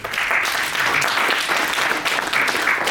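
Sustained audience applause closing a plenary talk at a scientific conference, a dense, steady wash of many hands clapping at close range for the full stretch.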